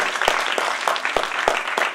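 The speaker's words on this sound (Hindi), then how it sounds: "एक बार जोरदार ताली इनके लिए जरूर होनी चाहिए" Audience applause at a water-conservation gathering: a steady wash of many hands clapping, with a few sharper, louder claps standing out at regular intervals.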